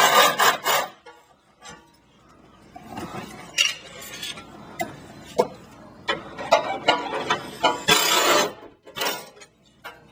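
Bolts being removed from a Dodge Challenger exhaust during a Borla exhaust installation, with irregular metallic scrapes, clicks and ratcheting rasps, some louder bursts near the start and end.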